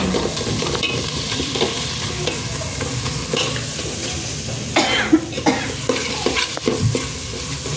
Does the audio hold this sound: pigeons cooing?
no